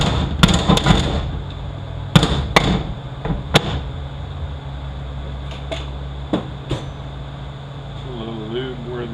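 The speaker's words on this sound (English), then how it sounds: "Drive out of our other axle seal." An axle seal is driven out of an AWTF80SC automatic transmission housing with a hammer: several sharp metallic blows in uneven bursts, close and loud at first, then sparser lighter taps over a low mechanical hum.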